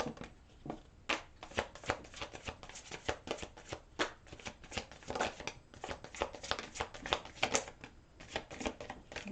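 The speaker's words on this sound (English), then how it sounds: "I always put these cards down in the same order that they come out of the deck" Playing cards are shuffled and drawn from a deck up close, a quick run of crisp riffling snaps and flicks with no talking.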